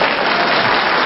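Steady, dense hand clapping from one person, loud and close, continuing evenly for about a second with no voices.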